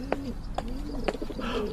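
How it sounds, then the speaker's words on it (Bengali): Pigeons coo from the roof beams above a long veranda, several short throaty calls spaced through the moment, fairly close, with faint bird chirps around them and no voices. "মাথার উপর কড়িবর্গা থেকে পায়রার ডাক শোনা যাচ্ছে"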